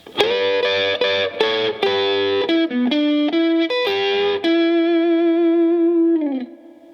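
Distorted electric guitar plays a rock lead lick, choppy syncopated notes and bends ending on a long sustained, wavering note that fades out.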